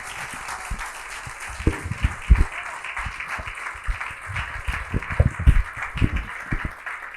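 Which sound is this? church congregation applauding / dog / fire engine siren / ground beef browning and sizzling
church congregation applauding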